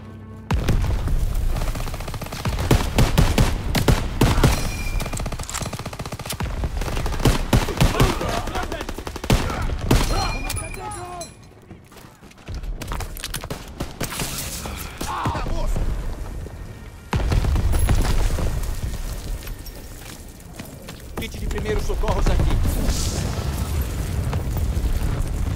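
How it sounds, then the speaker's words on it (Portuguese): Artillery and gunfire thunder through a beach assault in Call of Duty WW2, heavy booms and rolling fusillades in loud dense bursts with short lulls and voices shouting amid the battle. "Essa artilharia vai nos matar!"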